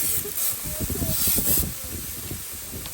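A steady, bright hiss of spraying liquid runs throughout, with crackling, sputtering pops mixed in close by.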